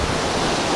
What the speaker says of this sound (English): The power of the waterfall.